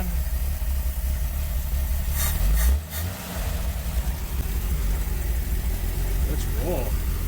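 A 1966 Dodge A100 van's engine runs close by, a steady low idle rumble with a brief dip and blip partway through, then settling back to a constant drone.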